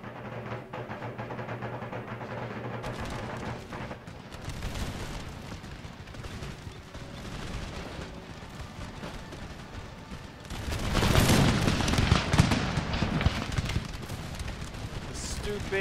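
Musket volleys and artillery fire in the Empire Total War video game, a continuous crackling battle din that swells into a louder, heavier barrage toward the end, with a voice talking over it.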